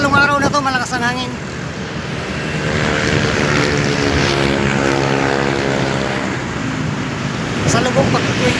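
Loud, steady headwind roar buffeting a moving motorcycle on a windy road, a continuous rushing noise mixed with the motorcycle engine drone, while a rider speaks over it.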